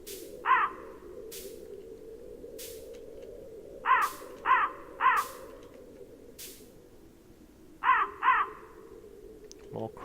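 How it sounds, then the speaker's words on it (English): Crows in the video game Qora caw in brief harsh bursts, a single call followed by clustered pairs and triplets, over a continuous low ambient drone. "More crows."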